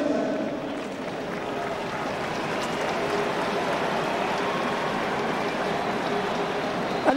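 Steady rain falls at a stadium after an All-Ireland football final, a dense continuous hiss with faint crowd murmur beneath and no clear speech.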